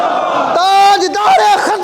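A rally crowd chants religious slogans in loud, close, rhythmic unison bursts, with raised voices rising and falling in short shouted phrases.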